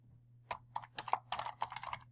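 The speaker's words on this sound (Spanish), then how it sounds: "Ingresamos la contraseña para que nos dé permiso" Someone types a password on a computer keyboard: about a dozen quick, light key clicks in an uneven rhythm, close and quiet over a low steady hum.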